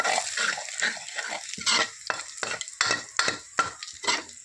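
Cumin seeds and garlic roast in a pan for an eggplant dish, with a sizzle under repeated scraping stirring strokes. The strokes come close and in uneven bursts, with no talking.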